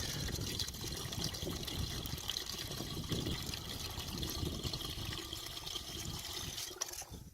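Water poured from a one-gallon container into a coolant mix for a 2001 Ford F150 5.4L, a steady gushing, splashing stream close by that runs continuously before tapering near the end.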